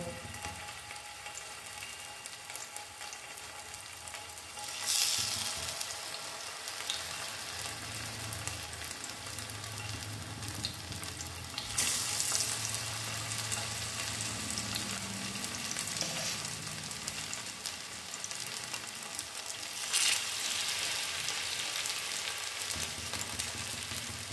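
Paneer pieces fry in hot oil, making a continuous close sizzle. Three sharper hissing surges break the steady crackle as each new piece goes into the pan.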